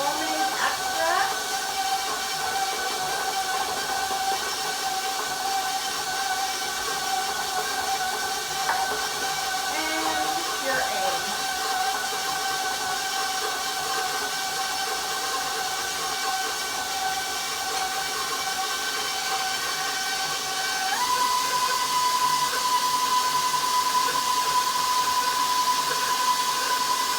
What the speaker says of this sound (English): you might want to stop the mixer and scrape the bowl